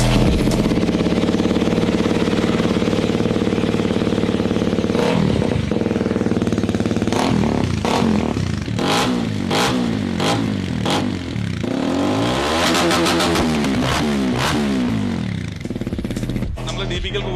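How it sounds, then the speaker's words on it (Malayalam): Hero Xpulse 210 motorcycle with a Norifumi full system exhaust and dB killer fitted, idling loud and close, then blipped through repeated sharp revs with a crackling, rasping note. "ഇനി നമുക്ക് ഇതിന്റെ എക്സോസ്റ്റ് നോട്ട് ജസ്റ്റ് ഒന്ന് കേൾക്കാം"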